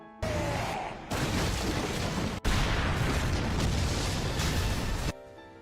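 An animated bomb goes off inside a giant's mouth, a loud sustained blast of roaring, crackling debris that breaks briefly with a sharp crack before surging again, then cuts off into quiet music.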